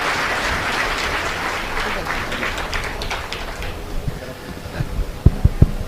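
At a comedy debate event in Erode, a packed hall applauds in a broad, sustained wash of clapping that thins out toward the end, where a few sharp thumps and stray claps remain.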